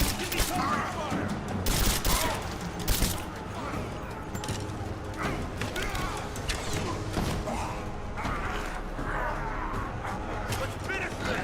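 Gunfire in a Rise of the Tomb Raider firefight, sustained scattered shots and crashing impacts mixed with shouted voices calling for cover, dense and loud throughout.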